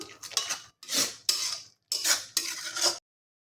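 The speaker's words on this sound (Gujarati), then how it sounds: "બધું જ આપણે મિક્સ કરી લઈશું." A spoon stirs kasuri methi and garam masala into bottle gourd kofta gravy in a pan, five scraping strokes in quick bursts with brief pauses, close and clear with no talk.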